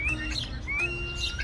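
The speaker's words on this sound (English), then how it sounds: "capybaras are able to communicate using a variety of vocalizations," A capybara gives a few thin, rising whistles, short chirpy sweeps repeated in quick succession against quiet background noise.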